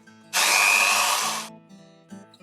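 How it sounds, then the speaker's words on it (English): A power drill pre-drills a screw hole for mounting a Boston blockout roller blind, giving one loud, close whirring burst of about a second before fading to quiet handling noises. "Then, pre-drill your hole."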